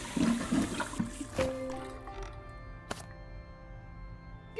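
Clean sacred water scooped up in the Simon the Sorcerer Origins video game, a brief watery gurgle and splash followed by fading trickles and a couple of soft clunks, moderately loud.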